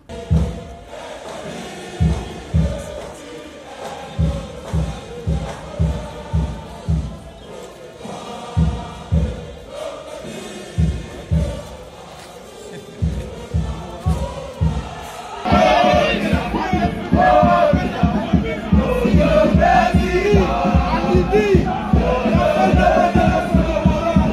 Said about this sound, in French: dans une manifestation organisée devant l'ambassade de France au Cameroun, les jeunes Camerounais s'insurgent contre le président Emmanuel Macron